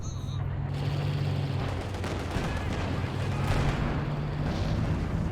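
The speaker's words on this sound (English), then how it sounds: "All 3 walking Stukas there combining for a crazy barrage," Rolling artillery barrage from three walking Stuka rocket launchers in Company of Heroes 2, a dense, continuous rumble of distant booms and blasts layered together for several seconds, with a steady low drone underneath.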